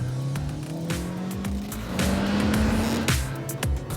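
Kia Picanto driven hard on a test lap, its small engine revving steadily with a rising then falling pitch, tyres squealing briefly, recorded close from the car with no talking.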